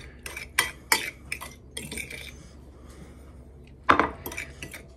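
A fork mixing a cheesecake filling in a dish, giving quick clinking scrapes in bursts with pauses between them, close and fairly loud, with no talking.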